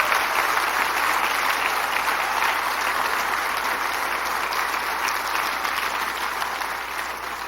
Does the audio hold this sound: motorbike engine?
no